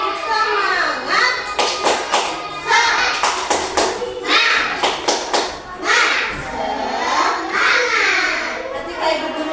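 A class of young children does a rhythmic group clap with their teacher, sets of sharp claps in patterned bursts mixed with chanting children's voices and the teacher's voice, close and lively.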